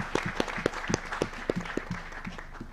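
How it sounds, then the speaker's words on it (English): A crowd at a campaign launch applauds, with distinct individual claps ringing out in an uneven, moderately dense patter that holds steady through the short stretch. "Please join me to give a resounding applause to the team of"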